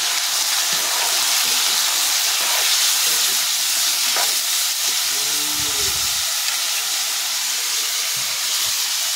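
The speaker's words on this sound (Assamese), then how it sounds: "পিঁয়াজটো অকণমান ৰঙা হোৱাৰ পিছত মাংসটো দি দিছোঁ।" Pork frying in a pan with onions browned in five-spice seeds for an Assamese pork and white gourd dish, giving a loud, steady sizzling hiss throughout with no talking.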